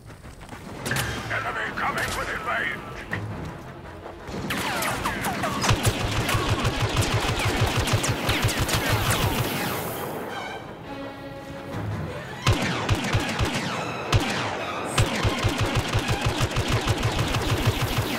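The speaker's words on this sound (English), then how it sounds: "Shock troopers with heavy blasters!" Heavy blaster fire from shock troopers in the Star Wars Battlefront beta rattles in dense, sustained bursts, loud and close, with a short lull midway and talk mixed over the barrage.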